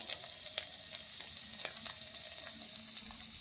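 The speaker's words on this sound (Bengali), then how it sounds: "পেঁয়াজটাকে দিয়ে আমি আরেকটু নেড়ে নেব এরপর আমি দিয়ে দিচ্ছি ক্যাপসিকাম" Onions and capsicum stir-fry in a pan with a steady, close sizzle and occasional sharp clicks of a utensil against the pan, alone with no voices.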